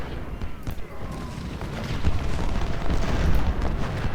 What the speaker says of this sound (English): Howitzers, open up on Pope.